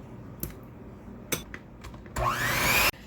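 An electric mixer beats large eggs into brown butter pound cake batter. A few light knocks come first, then the motor whirs up loud and close with a rising whine for under a second before cutting off.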